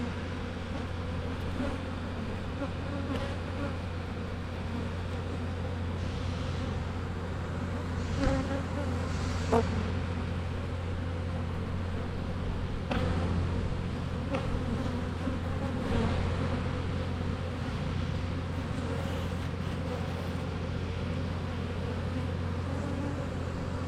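A dense swarm of bees drones continuously around an outdoor hive box, a steady close buzz with occasional louder passes of individual bees.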